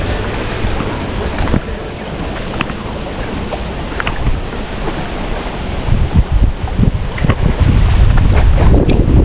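Strong wind gusts buffet the microphone at a fishing bank beside open water, a loud continuous roar that swells toward the end, with no talking.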